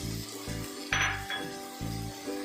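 Cauliflower, beans and tomato frying in a pan, a continuous sizzle with a low steady hum and a few scraping stirs and light clinks of a spoon against the pan.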